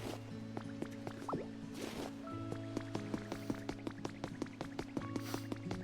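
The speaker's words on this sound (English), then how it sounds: "Oh, here's some water that is overflowing." Overflowing water in the Pokemon Pokopia video game: rapid rhythmic drips and liquid plops, soft and close, repeating over a steady gentle musical backdrop.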